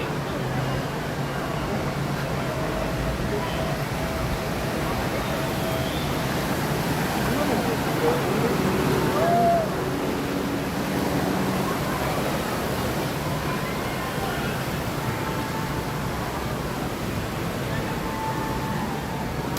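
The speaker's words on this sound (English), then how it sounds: "That waterfall at Wimpy's is the best feature of that ride" Steady rushing waterfall spray at Wimpy's water ride at Universal Orlando, a dense continuous roar close by with faint crowd murmur beneath.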